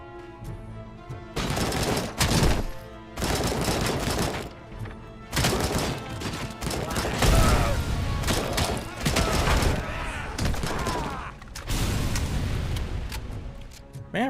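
Rapid automatic AK rifle fire and booming grenade blasts from a shooter video game, loud dense bursts broken by short gaps and layered over game sound with talking.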